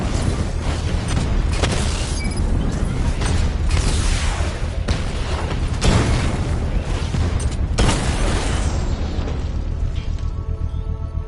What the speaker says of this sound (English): Controlled explosion successful, sir.